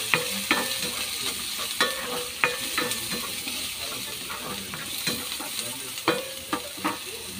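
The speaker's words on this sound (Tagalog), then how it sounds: "Ayan guys, maggisa na tayo sa ating pinagprituhan." Sautéing in leftover oil from frying potatoes and carrots, a steady close sizzle broken by regular clinks and scrapes of a spatula against the pan, no voices.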